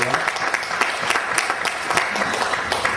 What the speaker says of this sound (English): Give a round of applause to the very first rock and roll dance organiser